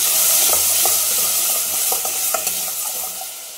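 Brinjal frying in a pan, a loud continuous sizzle with a spoon stirring and tapping in irregular strokes close by, no voices.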